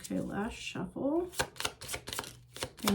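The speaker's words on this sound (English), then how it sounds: "Okay, last shuffle." Tarot cards are shuffled in a run of sharp riffling bursts and taps, close and crisp, with a person talking at the start.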